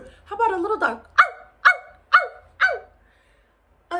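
A person's voice imitates a small dog, giving four short, sharp yips in an even rhythm, close and clear, right after a stretch of speech.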